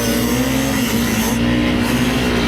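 A Honda CRF250L motorcycle climbs a deep, loose off-road slope, its engine droning steadily and loudly with a constant low hum throughout, no speech present.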